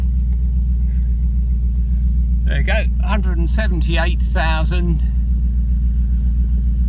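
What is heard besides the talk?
BMW 8 Series car engine running after being started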